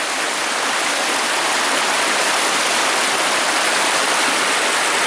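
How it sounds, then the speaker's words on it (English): Steady, loud rush of a flowing stream, a dense continuous roar with no breaks, close by. "All the sounds that make up all that's going on with this water."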